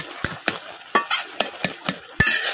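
A spatula stirs cooked taro greens and stalks in a pan, producing a regular series of close, crisp scraping strokes, about eight in quick succession, over a light sizzle.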